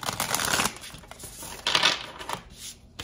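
Hands shuffling a Moonology oracle card deck, quick papery riffles and slides in two close bursts separated by a quieter pause.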